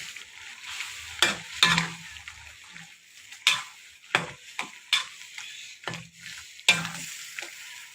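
Thai curry with pork simmering in a pot, stirred by a utensil that scrapes and clanks in repeated bursts over a steady bubbling sizzle, close up with no talking.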